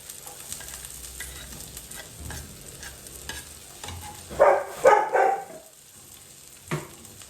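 Garlic dropped into hot oil in a pan, sizzling steadily with bursts of louder crackle and stirring scrapes midway, close and without talk.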